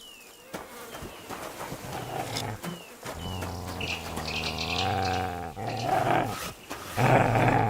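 A dog in the medieval video game Kingdom Come: Deliverance 2 growls low and rumbling in sustained stretches, loud and close, amid game ambience.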